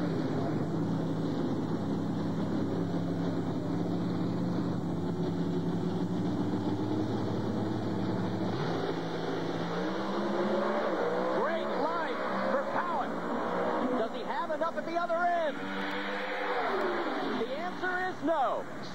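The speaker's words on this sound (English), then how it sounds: "the car makes a good pass pretty much every time it goes down the racetrack." An NHRA drag racing car makes its pass down the racetrack at Columbus in 2004, heard as a continuous loud engine roar with shifting pitch sweeps later on, while a commentator talks over it.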